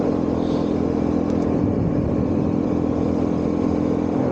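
A BMW R1100S shaft-driven motorcycle engine drones steadily while riding on a mountain road, a constant mid-pitched hum mixed with wind rush, close and unbroken throughout.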